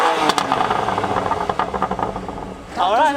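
A BMW M2 Competition engine runs in Sport Plus mode, a close, rough burbling idle with rattly pulses that swells into a brief rev at the end, with people talking alongside.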